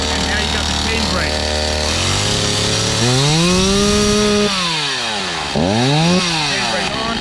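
A Stihl chainsaw engine runs loud and close, idling steadily before revving up and down in several rising and falling sweeps.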